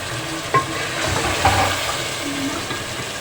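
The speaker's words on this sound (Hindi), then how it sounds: "अब ये मसाला भून गया, इसमें हम ये चिकन डाल रहे हैं।" Chicken dropped into fried masala for a spicy chicken dum biryani sizzles softly in the pan, with a couple of small knocks as pieces land and a steady low hiss underneath.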